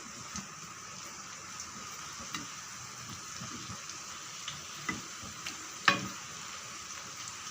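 Bread and egg fry in oil in a pan over medium heat, with a quiet, steady sizzle and scattered light pops and ticks. No one speaks.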